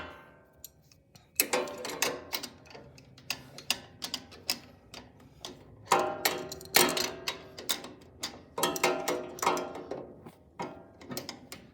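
A wrench turns the holder while a conveyor belt is replaced on an Elite Series dough sheeter, giving repeated ratcheting clicks and mechanical ticks in bursts over about ten seconds, close and fairly loud, with no talk.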